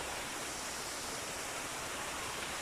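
Small waterfall at Inmalog, Sison, Pangasinan, pouring in a dense, steady hiss and rush of falling water, close and unbroken from start to finish.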